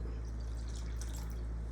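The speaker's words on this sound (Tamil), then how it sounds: "இந்த தண்ணி நான் அப்படியே ஊற்றிடுறேன்." Water from a tumbler is poured into tamarind rasam, a light continuous trickle and splash that is fairly faint and short, without any talk.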